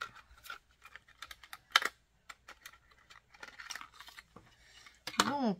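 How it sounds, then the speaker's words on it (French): Close, sharp scraping and clicking of tape being cut and a cardboard box of scrapbooking supplies being handled, in uneven bursts, with a brief vocal sound near the end. "couper le scotch et ouvrir la boîte."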